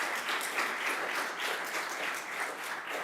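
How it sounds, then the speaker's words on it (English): An audience at a school district's State of the District address gives a round of applause for the superintendent, a dense clapping wash that swells and ebbs slightly over a few seconds. "give her a round of applause"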